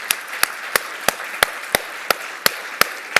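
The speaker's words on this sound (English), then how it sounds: "would you please join me in thanking them, giving them a warm applause" Evenly spaced sharp claps, about three per second, ring out over a steady hiss of room noise at a conference session, like one pair of hands or a small group clapping in a slow, regular beat.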